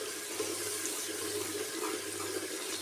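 Tap water runs steadily into a sink while beans are washed, a continuous close hiss and splash with a low hum beneath, no talking.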